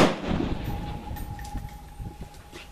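A single AK-47 pistol shot fired outdoors at a long-range target opens with a sharp blast, then a rolling echo that fades over the next couple of seconds.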